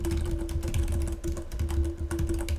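Rapid, steady typing on a computer keyboard while entering details during Windows 8 setup on a PC, continuous clicking keystrokes close by over a low steady hum, with no talking.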